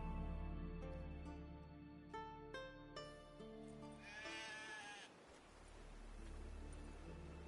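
Several sheep bleat in drawn-out, wavering calls in The Witcher 3 at Kaer Morhen, overlapping one another faintly against a soft background.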